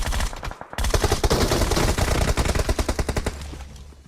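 Automatic gunfire in a PUBG-style battle royale game on the Livik map rattles in loud, fast bursts, trailing off into quick separate shots near the end.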